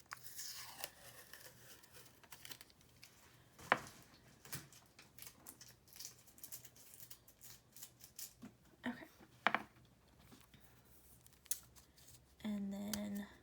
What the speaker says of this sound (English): I'm actually just going to try to take the tape off